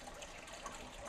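Water gushes down the drain pipe of an indoor aquaponics bell siphon, a continuous broadband rushing and splashing that stays steady and fairly close throughout, with no voices.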